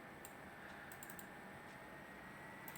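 Computer keyboard keys tapped a few times in short irregular clusters during photo editing work, quiet clicks over a steady background hum with no talking.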